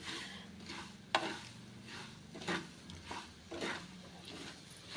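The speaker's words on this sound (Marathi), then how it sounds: "आता आपल्याला हे शेंगदाणे चांगले खरपूस होईपर्यंत आपल्याला भाजून घ्यायचे आहेत" Peanuts dry-roast in a pan over a medium gas flame and are stirred, with a low rustling sizzle broken by recurring scraping strokes and a few clinks. The sound is faint and has no talk over it.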